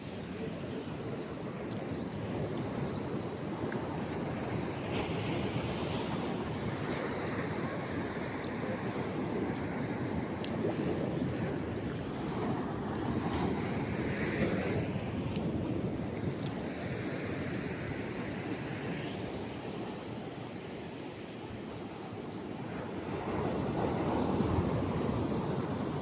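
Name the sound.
strong ocean waves crashing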